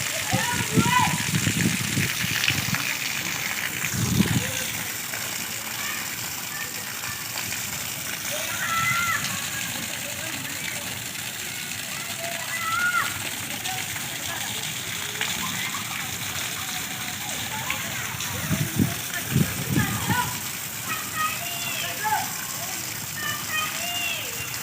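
Rain pours steadily in a village street while children splash and play in the rainwater, with constant wet rushing, sloshing bursts and distant voices under nearby talk.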